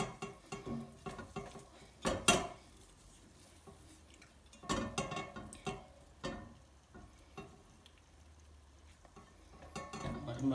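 Ghee melting in a pan over low heat with a soft sizzle, punctuated by several scraping stirs and utensil knocks, fairly quiet and close.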